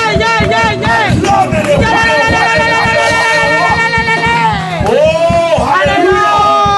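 A church congregation cheering and acclaiming, with loud, sustained overlapping shouts and ululating voices from a large crowd, many voices rising and falling together over rhythmic clapping.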